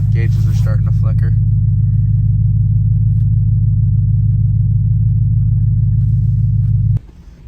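A faltering car that is about to stall backs up with a loud, steady low engine rumble that fills the clip. A voice speaks briefly at the start, and the engine cuts out abruptly near the end.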